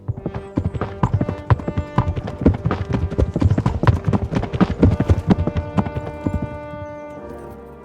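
Horse hooves clop in a rapid, busy rhythm while riding through a medieval game world, loud and close throughout, fading slightly at the end with no talk over it.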